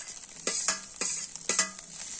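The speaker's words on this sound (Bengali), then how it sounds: "আলুটা ভালো করে ডিমের সঙ্গে মিশিয়ে নেব।" Spoon scraping and stirring potato into scrambled egg in a hot frying pan, three quick scraping strokes with light sizzle underneath, close and clear.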